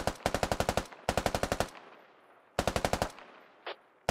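Video game machine gun fire in three loud, close bursts of about seven evenly spaced shots each, separated by short pauses, followed by a lone shot and the start of another burst.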